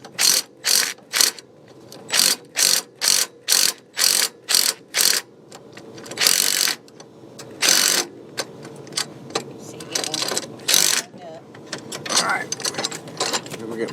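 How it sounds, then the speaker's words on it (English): A hand ratchet cranks in a quick run of evenly spaced clicking bursts while it starts bolts on the broken, bent lower A-arm of a Maverick X3. It is close and loud at first. Later there is rustling handling noise with brief talk. "I'm going to start these bolts just so we can get it where we hold it in place so it's not moving around on us"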